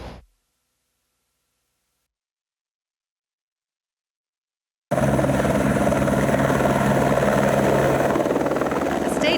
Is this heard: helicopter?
yes